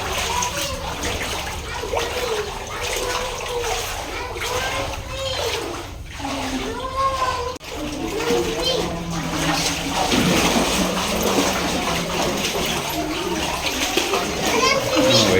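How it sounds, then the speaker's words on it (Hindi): Small children play and splash in cool water inside a cave Shiv temple in Preet Vihar, Delhi, with steady splashing and trickling under lively chatter and children's voices throughout. "वही छोटे बच्चे यहाँ पानी में भी मस्ती करते हुए।"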